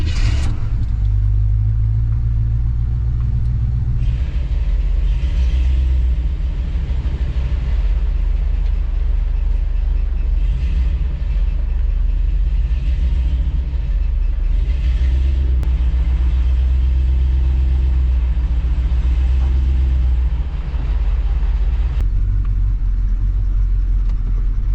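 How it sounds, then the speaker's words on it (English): Several GM pickup trucks, a GMT 800, a GMT 400 and an old square body, roll up close by, with a steady, loud low engine rumble and road noise throughout and no talking. "We got the GMT 800, the GMT 400, and the old square body pulling up the rear"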